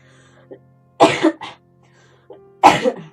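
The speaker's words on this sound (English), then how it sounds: "I had a bit of a cough" A man's coughing fit: several harsh, rough coughs in two clusters separated by a pause, with a quieter throat-clearing sound before each burst, close and loud in a quiet room.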